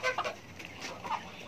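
Several chickens cluck in short, close bursts at a coop while food is tipped out for them, with no talk over them.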